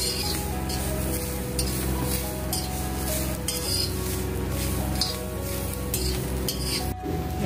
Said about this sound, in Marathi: आता या ओला खोबरा कांद्या बरोबरच भाजायचा ना.